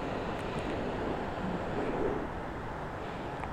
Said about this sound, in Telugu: మీకు కనబడుతుంది కదా వాటర్ ఫ్లో ఎలా అవుతుందో